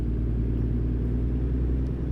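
A truck's engine in a truck driving video game rumbles steadily with a deep, constant low drone that neither rises nor fades.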